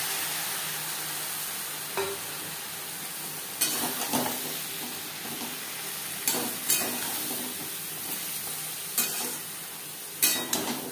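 Ridge gourd with turmeric and salt being stirred and fried in a pan over high to medium flame, a constant sizzle broken by repeated scraping stirs of a spatula every couple of seconds, close and clear with no talking.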